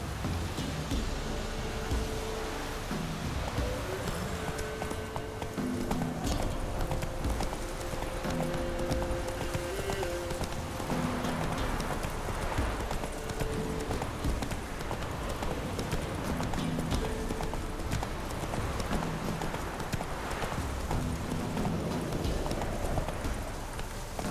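Rhythmic hoof clip-clop of the horse Roach galloping in The Witcher 3, steady and continuous over a game soundscape with faint tonal music, with occasional snorts.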